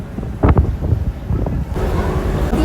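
Strong wind on a barge buffeting the microphone with a low roaring rumble, steady and loud throughout, with some gusting thumps.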